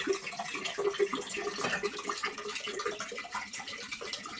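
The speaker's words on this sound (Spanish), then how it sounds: "El recipiente de vidrio lo llenamos con 1 litro de agua." A litre of water is poured into a glass container to make plant milk, giving a steady, close splashing rush that lasts throughout without pause.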